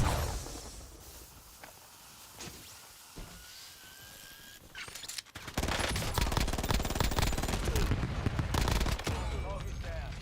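Rapid automatic gunfire and bursts of shots in a multiplayer shooter video game, building from scattered distant shots to dense, loud continuous firing with occasional footsteps.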